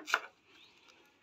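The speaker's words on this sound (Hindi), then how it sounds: "धनिया को अच्छे से धो लिया था, इसे काट लेंगे" A single sharp knife chop through fresh coriander leaves on a board, close and brief, followed by a faint quiet tail.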